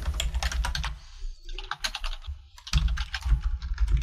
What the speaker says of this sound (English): So I'm just typing things down.